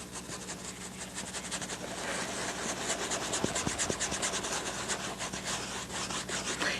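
Paintbrush scrubbing paint onto canvas while painting mountains, a steady close rasping scrub of rapid repeated strokes with no talk.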